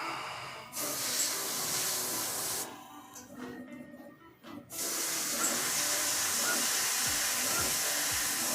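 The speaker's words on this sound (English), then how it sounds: "if you use the spray paint, then you'll get the hang of it." A spray paint can hisses in long bursts, a loud continuous spray that cuts out briefly in the middle with some quieter handling noise before resuming and running steadily to the end.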